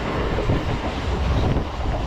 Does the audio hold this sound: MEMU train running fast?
yes